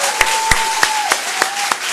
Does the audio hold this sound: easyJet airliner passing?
no